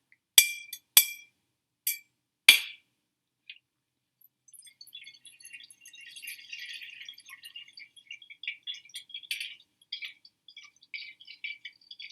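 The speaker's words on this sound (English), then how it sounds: "Place the cleansed crystal into a quart-sized glass container." Several sharp glassy clinks ring out in quick succession as a quartz crystal drops into a quart-sized glass jar, then lighter rattling and tinkling continues softly for several seconds.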